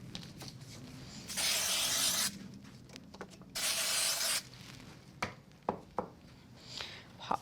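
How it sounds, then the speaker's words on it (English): Spray glue hisses from an aerosol can onto the back of a small decorative piece for a gold card, two steady bursts of about a second each, followed by a few light taps and handling sounds. "I'm just going to use a bit of spray glue on the back of this."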